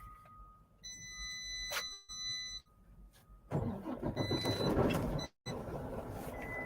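A truck engine cranks with a high whine, then catches and roars into a loud, rough idle after a short pause, heard close up from the cab with no talk.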